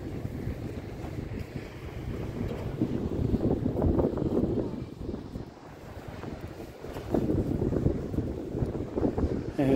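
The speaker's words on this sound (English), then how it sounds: "And it's windy and it's cold." Cold wind gusting outdoors beside Tower Bridge on the river Thames, buffeting the microphone in a continuous rough rumble with distant city and water noise underneath, no talking.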